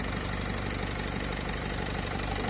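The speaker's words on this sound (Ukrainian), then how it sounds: "Зараз машина працює, мотор працює." A 2013 Nissan Primastar Maxi van's engine runs at idle under the hood, a steady close mechanical rumble with a faint rhythmic knock throughout and no voices.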